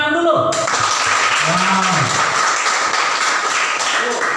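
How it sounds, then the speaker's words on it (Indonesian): Classroom applause after student group presentations: a dense wash of clapping sets in about half a second in and holds steady to the end, loud and close, with a short spoken exclamation right at the start. "Tepuk tangan dulu."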